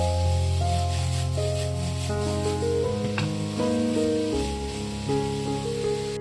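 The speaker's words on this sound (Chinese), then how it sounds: "下面来开启大火来翻炒一下" Winter melon and pickled mustard stir-fry in a wok over high heat, a steady soft sizzle running beneath background music throughout.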